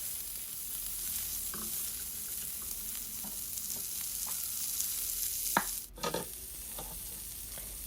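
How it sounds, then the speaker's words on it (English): Chopped onion stir-frying in olive oil in a pot over medium heat, a steady soft sizzle broken by scattered scrapes and knocks of a utensil stirring, including one sharp clatter midway, close by and with no talking. "I'm going to be stir frying this on a medium heat for 2 minutes"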